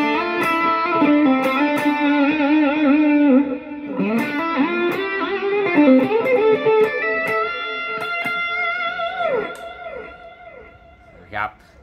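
Electric guitar played through a Quad Cortex with heavy distortion and feedback into a cabinet, sustained howling notes with bending pitches and sliding feedback tones, loud and close, ending in a brief squeal.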